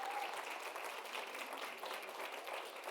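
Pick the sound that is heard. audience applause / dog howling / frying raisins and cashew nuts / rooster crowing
audience applause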